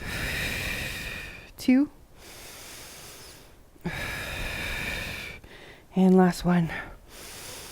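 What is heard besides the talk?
deep breaths after workout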